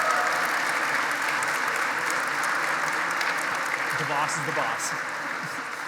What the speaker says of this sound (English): Let's give Mrs. Elliott a round of applause